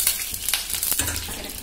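Soya chunks fry in a pan for a Punjabi-style gravy, giving a steady close sizzle with a few louder crackling bursts and stirring scrapes, no voices.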